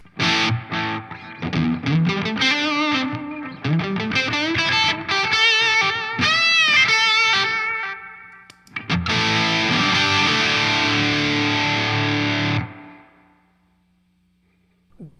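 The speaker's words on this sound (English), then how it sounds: "I'll throw a little delay on that." Electric guitar with a distorted tone through a Laney LF Super 60-watt 2x12 combo amp with delay plays a run of rising and bending notes, then rings out in a long sustained chord with echoing repeats that fade.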